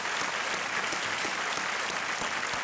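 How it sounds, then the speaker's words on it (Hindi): Studio audience on a Hindi TV quiz show applauds steadily, a dense, even wash of many hands clapping without a break. "एक बार तालियों के साथ दोनों का अभिनंदन।"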